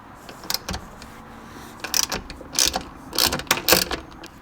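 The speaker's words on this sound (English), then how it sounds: "Now I'm going to remove these 3 Torx screws, and it's a T25" T25 Torx screws come out of the sunshade of a 2011 Audi S5, with several short bursts of ratcheting clicks from the driver turning, close up and fairly crisp amid quiet pauses.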